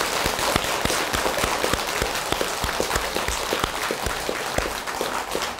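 Temple assembly of monks and Buddhist devotees clapping at an all-night mantra prayer service, dense continuous applause with some sharp individual claps standing out, close and loud throughout.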